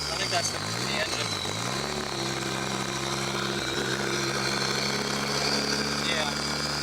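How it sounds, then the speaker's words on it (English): A Nissan SR20 engine swapped into an S13 coupe idles steadily after its first start, a loud, rough, buzzing drone with a brief rev dip early on, under occasional voices. "I think that's the engine."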